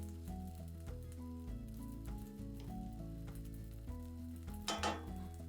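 Raisins fry in olive oil in a pan, a low steady sizzle sitting under a sustained musical drone, with a brief scrape or stir near the end.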